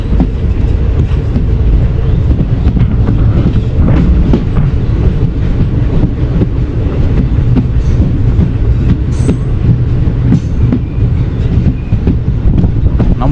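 Amritha Express, train no. 16343, running on the rails near Oddanchatram junction, a loud steady rumble of wheels with clattering rail joints and occasional squeals, continuous throughout with no talking.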